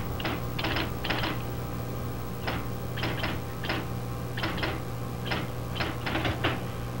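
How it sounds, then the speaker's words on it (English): A 1961 Rice Computer's typewriter clatters out a memory value in short bursts of sharp keystrikes separated by pauses, close and clear over a steady low machine hum. "it'll carry on typing it out"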